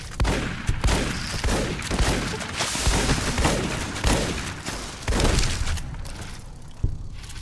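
Shotgun blasts in Fallout New Vegas, a run of heavy booming shots fired at an uneven pace amid game combat noise, loud and close with no talking over them.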